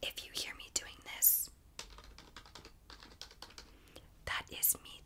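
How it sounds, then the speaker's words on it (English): Quiet clicks of buttons being pressed on a keypad, irregular taps in short bursts with a few soft beeps, close to the microphone. "that is me typing in code numbers"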